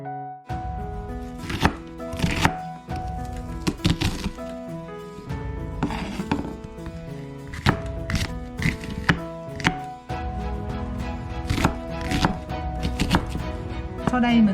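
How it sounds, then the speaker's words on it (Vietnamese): A knife chops onion for cucumber kimchi on a cutting board, with rapid, irregular close-up thunks repeating throughout, while background music plays underneath. "Ở đây mình sẽ cắt cái củ hành này, để chỉ cần cắt nhỏ ra thôi"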